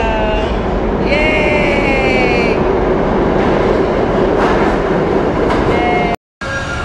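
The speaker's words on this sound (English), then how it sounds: "Here come the train. There it go." A subway train rumbles past loudly and continuously with rattling wheels and squealing, whining tones rising and falling on the rails, and a person exclaims briefly over the noise near the end.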